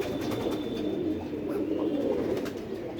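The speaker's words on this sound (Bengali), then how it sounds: "এই যে এই কবুতরগুলি এগুলি আমার ঘরের মেন মেন কবুতর" Several house pigeons coo in a continuous low murmur close by, with no talking.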